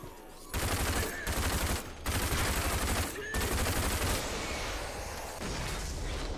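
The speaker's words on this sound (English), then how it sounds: "Someone has got a machine gun." Bursts of machine gun fire in the shooter game RAGE rattle densely and loudly. Sustained volleys are broken by a few short pauses, with no talking over them.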